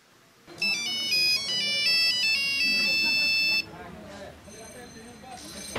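A phone's electronic ringtone plays a bright repeating melody for about three seconds, fairly close, then cuts off, with low talk and room noise continuing afterward.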